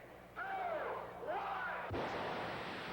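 A hydrogen peroxide rocket-powered Vega dragster launches down a quarter-mile strip, a roaring blast that rises abruptly and holds as a loud, rushing thrust noise with a sharp surge near the end.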